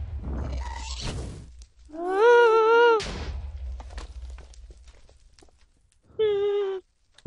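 Minecraft ghast noises in the Nether, a series of high, wavering, tonal wails that rise and fall, separated by quieter crackling game sounds and a short burst of noise.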